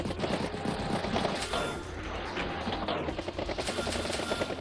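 Battlecopter helicopter unit in the Advance Wars video game, a dense mechanical rotor clatter mixed with rapid game effects, continuous and fairly loud throughout.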